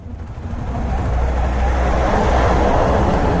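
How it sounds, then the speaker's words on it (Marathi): A truck rumbling past close beside a moving motorbike on the road, a loud steady roar of engine and road noise that builds over the first second and then holds. "हे ट्रक आहे साईडला आरामात."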